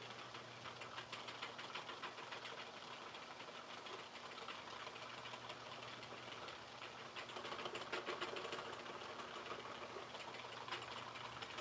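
A Sentro knitting machine being cranked, giving a continuous clattering, ticking mechanical whir at an even pace, close and quiet, with no talk.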